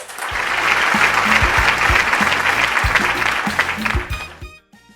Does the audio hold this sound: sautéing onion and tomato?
no